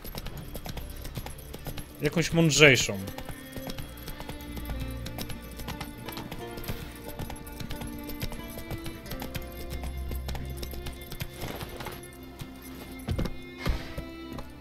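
Horse hooves clip-clop in The Witcher 3 video game, a steady trotting rhythm running through the clip beneath a voice talking and game music, with a louder burst near the start.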